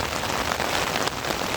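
Steady rain falls continuously on a clean road by a pond, a dense, even hiss of drops with no voices.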